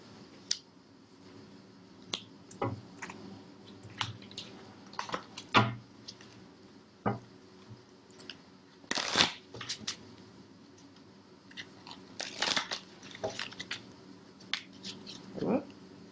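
Tarot cards shuffled by hand, giving repeated crisp riffling and snapping bursts scattered through the stretch, close up, over a quiet room.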